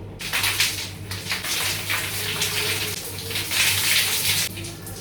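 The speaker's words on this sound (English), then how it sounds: "I always use cold water to wash my hair." Cold water runs steadily from a tap while hair is being washed, a continuous close splashing gush with uneven surges as the stream hits the hair and basin, no talking.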